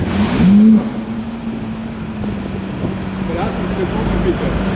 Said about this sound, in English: Got a car coming.